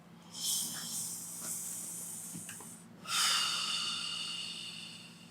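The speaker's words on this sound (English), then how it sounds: "Big breath in and blow it out." A deep breath drawn in, a brief pause, then a long, forceful exhale during a chiropractic Y-strap session, heard close and airy with no talk.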